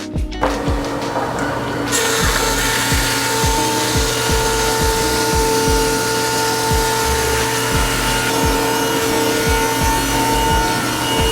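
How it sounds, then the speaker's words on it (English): A power planer runs continuously and loud across wooden countertop planks, with a steady motor whine and repeated rhythmic low thumps as it passes over the boards. No voices are heard. "now we're gonna get this thing planed down nice and smooth"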